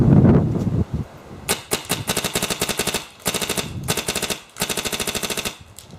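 Rapid bursts of sharp, loud pops from a paintball marker fire in quick succession, several strings of shots separated by short pauses, close and alone.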